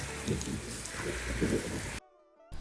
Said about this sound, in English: It appears to be raining hard enough now.